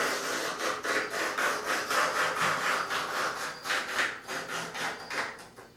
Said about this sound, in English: I'm just going to cut and trim away the foam, running a razor knife right along the edge of the trunk opening itself.